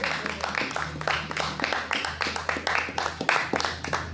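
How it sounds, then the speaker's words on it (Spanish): A small group applauding, with rapid uneven hand claps that keep going throughout at moderate loudness, close by, and a low steady hum underneath. "le aplaudimos al amigo Rafael y aplaudimos a Magali también"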